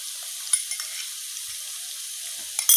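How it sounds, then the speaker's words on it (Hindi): Onion and garlic paste frying in a pan while preparing a crispy bhindi (okra) fry, giving a steady close hiss of sizzling oil with a few small pops and stirring clicks, no talk. "अब हम प्याज को ब्राउन करेंगे, ज़्यादा फ्राई नहीं करना, बस इतना ही करना है।"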